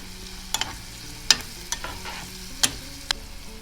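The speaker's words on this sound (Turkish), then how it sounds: "Salçayı biraz kavuracağız." Red pepper paste sautéing in a pan for a spinach börek filling, with a faint low sizzle and a few sharp utensil scrapes and taps spaced irregularly, no voices.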